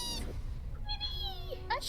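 A cat in Hogwarts Legacy meows in a couple of drawn-out, rising calls, close and clear, with a voice speaking briefly at the start.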